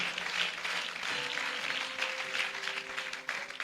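A church congregation applauds during a Sunday service: dense, steady clapping fills the space throughout, with a faint sustained keyboard tone underneath.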